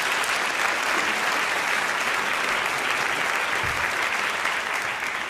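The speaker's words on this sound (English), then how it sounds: "just want to ask him for one more round of applause for that" Sustained, dense applause from a live audience at an Intelligence Squared/NPR debate on immigration in New York City fills the whole stretch, steady and broad, with no talking over it.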